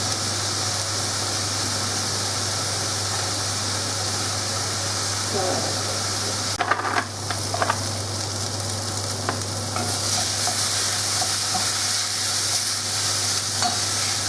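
Onion frying in a pan holds a constant loud sizzle with a steady low hum underneath, and a few clatters of stirring come midway.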